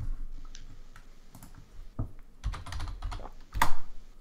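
Someone types on a computer keyboard, a close, irregular burst of key clicks and taps with a few louder strikes near the end, and no talk.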